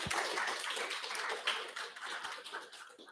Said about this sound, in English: We can also give a big hand of applause and say thank you.